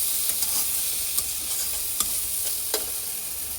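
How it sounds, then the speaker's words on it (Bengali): Chopped onions frying in a pan give a steady, moderate sizzle, broken by a few sharp clicks from stirring, with no voices. "চলো এটা আর একটু ভাজা হোক"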